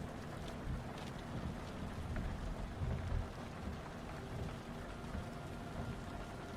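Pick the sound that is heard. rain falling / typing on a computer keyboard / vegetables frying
rain falling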